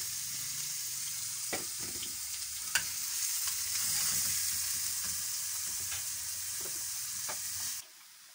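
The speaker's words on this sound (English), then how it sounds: "onions first and chives let them cook until they are tender" Chopped onions and chives fry in a pan for a kebab dish, giving a steady close sizzle with a few light stirring clicks before it cuts off near the end.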